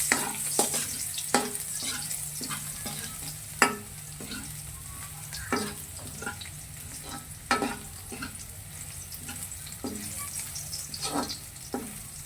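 Garlic sizzles steadily in a hot pan while being cooked for chicken adobo with coconut milk, liver and chicken eggs, with repeated sharp stirring scrapes and clatters over a constant frying hiss.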